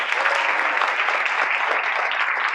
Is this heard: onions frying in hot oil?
no